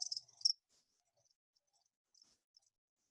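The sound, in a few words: cricket whistling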